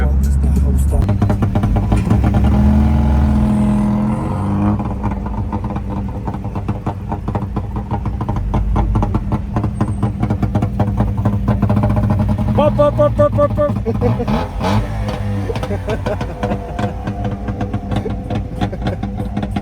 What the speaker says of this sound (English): hundreds, if not thousands, of cool modified cars just literally everywhere at every single intersection